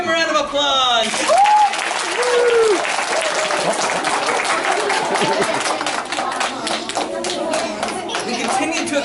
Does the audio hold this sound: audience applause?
yes